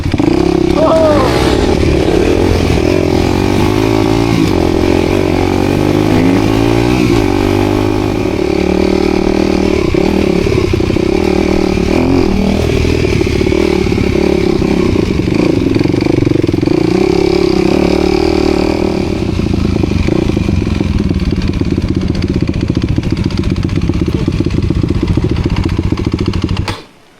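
A dirt bike engine drones steadily on a mountain trail, holding a near, continuous rumble for almost the whole ride while people talk over it.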